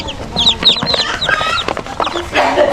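Chickens in a small backyard coop with new chicks give busy, close clucks and chirps, overlapping calls filling the short stretch with no talk.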